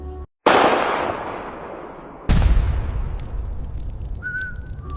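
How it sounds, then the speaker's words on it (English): Sniper rifle gunshot effects in a WW2 sniper scene, two sharp, loud cracks each trailing into a long decaying echo, the second followed by a faint high tone near the end, with no speech. "She pulls the trigger."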